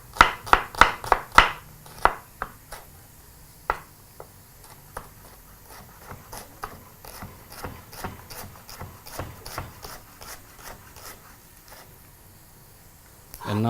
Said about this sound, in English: proceed to very quickly slice up your red onion